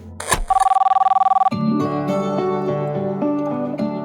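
A telephone rings in a domestic drama scene: a rapid trilling electronic ring after a brief click, lasting about a second, followed by sustained tonal background music.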